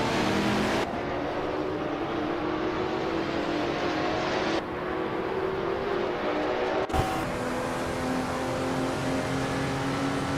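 Race cars roaring around a track in a racing video game, with several engine tones rising and shifting steadily and loudly throughout, sudden cuts between cars, and no talking.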